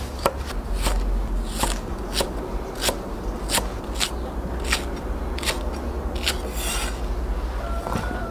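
Scallion, ginger and garlic are chopped on a board with a knife, about a dozen crisp, evenly spaced chops close by over a low background hum.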